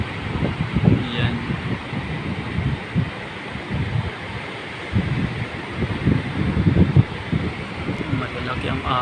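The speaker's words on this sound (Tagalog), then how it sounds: "lakas ng hangin" Steady gusting wind roars across the microphone with rushing, surf-like noise throughout, and a voice speaks intermittently over it.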